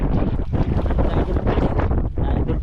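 Strong wind roars steadily across the microphone, a dense, blustery rush with gusts rising and dipping throughout, out on open water.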